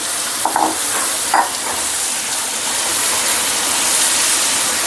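Green mango and jaggery chutney is stirred in an oily pan, giving a steady loud sizzle with a few scraping strokes of the spoon near the start, without any talking.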